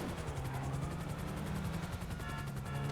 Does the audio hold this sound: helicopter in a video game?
yes